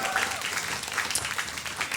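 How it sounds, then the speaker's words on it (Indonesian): An audience at Hard Rock Cafe Jakarta breaks into brief, lively applause, dense clapping heard close and loud for a couple of seconds. "Boleh tepuk tangan dulu untuk Hard Rock Cafe Jakarta."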